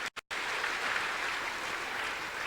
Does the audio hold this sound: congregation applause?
yes